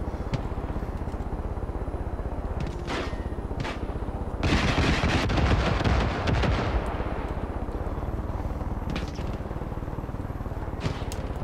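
Gunfire in Far Cry 5: rapid shots crackle at a steady background level, then swell into a loud, dense burst of automatic fire for a couple of seconds before fading back to scattered shots.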